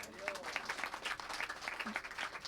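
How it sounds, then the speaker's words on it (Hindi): Devotees at a Janmashtami gathering clap along in a faint, distant patter of many hands, with a murmur of voices mixed underneath. "हो गया तो तालियां बजा दी जाए।"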